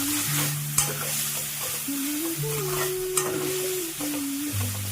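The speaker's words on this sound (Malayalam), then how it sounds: "മൂടി വെച്ച് ഇത് 2 മിനിറ്റ് കഴിയുമ്പോൾ എല്ലാം കൂടെ ഇളക്കി യോജിപ്പിച്ച്" Spinach thoran (cheera) being stirred in a hot pan, a steady sizzle of frying greens with soft scraping strokes running continuously throughout, close and moderately loud.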